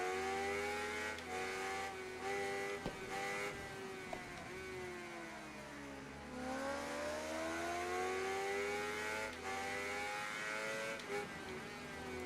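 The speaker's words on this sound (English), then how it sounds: "the Ducati gets by us" A Ducati motorcycle in the racing video game Ride 3 screams past with a high revving engine, its pitch sweeping over several seconds amid continuous engine drone from the surrounding race.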